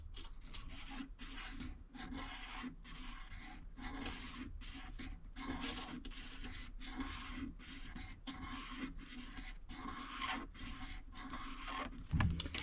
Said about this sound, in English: Just back and forth, back and forth. I can actually see it's polishing the blade right now.